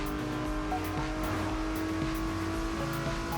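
An Aston Martin barrels along in The Crew Motorfest, its engine a steady, sustained drone with a rising tone, close and uninterrupted, with no voices over it.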